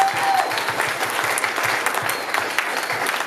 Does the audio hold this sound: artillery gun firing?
no